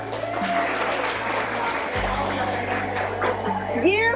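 Applause from a group at a park volunteer recognition event, a steady patter of clapping mixed with voices, cheers and a whistle, with low hum underneath and a rising whoop near the end.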